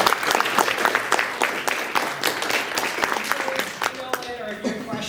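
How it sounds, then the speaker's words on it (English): Audience applause fills the room with dense, steady clapping for several seconds, close and fairly loud, thinning slightly toward the end. "So a huge round of applause for Lynn."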